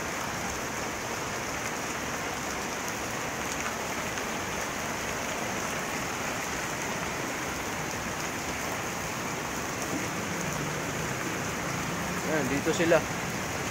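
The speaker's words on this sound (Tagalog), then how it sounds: "lumakas bigla yung ulan" Heavy rain suddenly intensifying pours down in a steady, dense roar across the whole stretch, with a brief spoken remark near the end.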